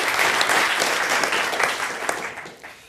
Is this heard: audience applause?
yes